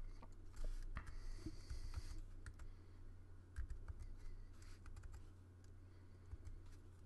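Keys tapped on a Mac computer keyboard to enter a server IP, soft scattered clicks in an irregular rhythm over a steady low hum, fairly faint and close.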